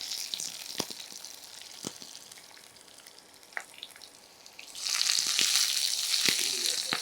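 Chopped shallots go into a pan for beans rice: quiet crackling and a few taps of stirring, then a loud, bright sizzle bursts up and holds steady as the onions hit the hot oil.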